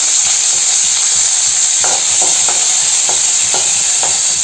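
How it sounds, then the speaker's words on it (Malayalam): Cashew nuts sizzling in hot ghee in a pan, a constant bright frying hiss with soft scraping stirs repeating every half second or so, close and loud with no talking. "നെയ്യ് ചൂടായി വരുന്നുണ്ട്. അപ്പോൾ നമുക്ക് കുറച്ച് അതിനകത്ത് കഴുകി വെച്ച അണ്ടിപ്പരിപ്പ് ഇട്ട് കൊടുക്കാം."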